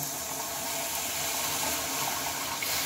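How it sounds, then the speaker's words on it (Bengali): Water is poured into a well-fried spice mixture for a cabbage stem curry, making a steady, close splashing rush that runs unbroken throughout. "এখন দিয়ে নেব কিছুটা পরিমাণ জল।"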